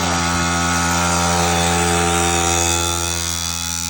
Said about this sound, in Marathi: गाडी स्टार्ट झालेली आहे